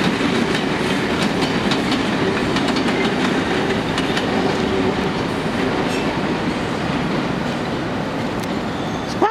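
An HST train at London Paddington station rumbles steadily and loud, its wheels giving a faint rhythmic clatter, with the sound holding nearly even from start to finish and no talking.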